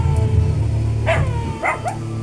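Large dogs bark a few times nearby, short deep woofs over a low steady hum in the background.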